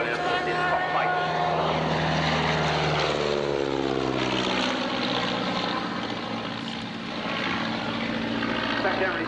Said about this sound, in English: That's a privately owned touring aeroplane.